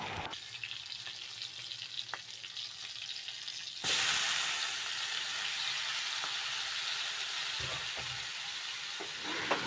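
Prawns deep-frying in hot oil for a Bengali prawn and taro-leaf dish: a steady crackling sizzle that surges louder partway through and keeps going, with a few faint clinks, close and alone.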